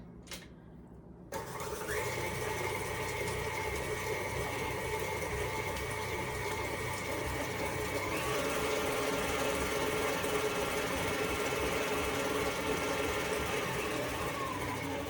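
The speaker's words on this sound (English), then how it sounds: "With the mixer running slow, we're going to slowly mix in our flour mixture." Electric mixer on a slow setting beating pumpkin roll batter, a steady close mechanical whir that starts after a short quiet moment and rises slightly in pitch partway through as flour is added.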